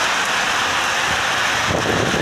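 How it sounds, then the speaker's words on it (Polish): Heavy thunderstorm downpour in Kraków at night, a dense, steady roar of rain hammering surfaces, loud and continuous with a low rumble swelling near the end. "dzielna ulewa"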